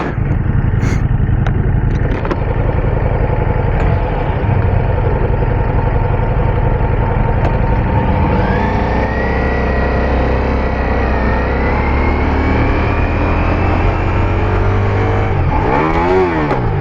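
A Ducati Diavel V4 motorcycle runs loud and close while being ridden, its engine droning steadily, then rising and falling in pitch as it revs and shifts through gears, ending in a sharp swooping rev.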